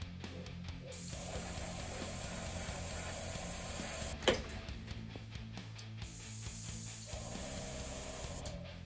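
An airbrush sprays Tamiya XF71 Cockpit Green paint in a continuous soft hiss, with short pauses and one sharp click partway through, fairly faint and close.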